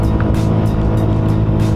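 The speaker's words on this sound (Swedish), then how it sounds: "Jag gillar varvstopp." A turbocharged Subaru Legacy with twin turbos sits hard against its rev limiter, the engine note held high and chopped by rhythmic stuttering cuts roughly every third of a second, loud and close.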